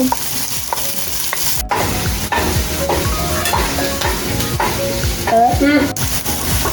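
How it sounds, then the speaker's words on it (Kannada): Onion fries in a pan after whole spices go in, with a loud, close sizzle under busy stirring and spoon scrapes against the pan, uninterrupted by speech. "ಆನಿಯನ್ ಹಾಕಿ ಒಂದು ಸ್ವಲ್ಪ ಫ್ರೈ ಮಾಡಬೇಕು."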